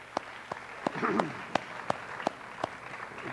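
An audience at a high school fine arts banquet applauding, with scattered, fairly sparse claps spaced out over a few seconds and a voice speaking briefly in the middle.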